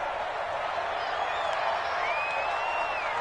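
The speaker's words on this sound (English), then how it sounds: "The crowd getting into it as we come up on a big 3rd down." Stadium crowd in a PS4 American football video game builds ahead of a big third down: a steady, dense roar of many voices with faint whistles, filling the whole stretch without pause.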